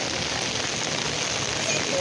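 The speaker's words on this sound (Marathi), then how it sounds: "हे पाऊस पण भरपूर पडत होता" Heavy rain pours down at Vashi Chowpatty, Navi Mumbai, in a dense, steady hiss that stays constant throughout, with no break or voices.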